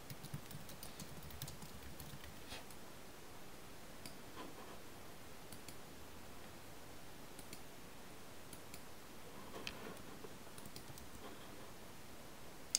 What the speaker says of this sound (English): I type like this